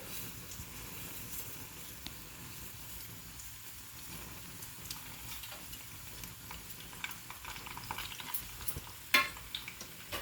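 Chana dal and mustard seeds fry in oil for tamarind rice, giving a faint, steady crackling sizzle with a few sharper pops near the end.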